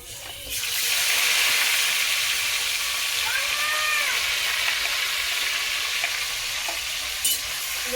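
Onions frying in oil in a pan while being stirred, a loud, continuous close sizzle with faint scraping from the spoon throughout.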